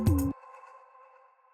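A pitch-shifted everyday-sound sample hits hard and then cuts off, leaving a thin reversed tonal layer that hangs as a sustained, faint ringing tail. No voices.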